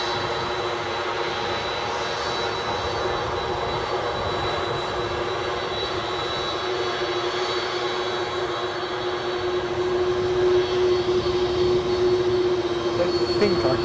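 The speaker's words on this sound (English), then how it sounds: "So this aircraft, 767-300, off to New York JFK." Boeing 767-300 jet at Edinburgh Airport departing for New York JFK, its engines giving a steady loud roar with a sustained whine that swells toward the end; no talk.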